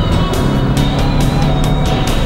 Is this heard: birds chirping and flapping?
no